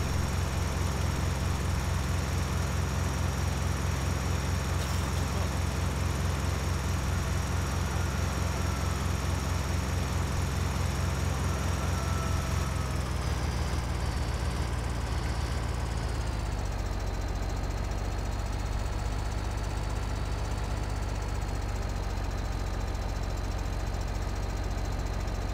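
Case tractor engine in Farming Simulator 2013 runs in a steady, close, loud drone with a low rumble that drops and shifts in tone partway through, then settles into a lower, quieter idle.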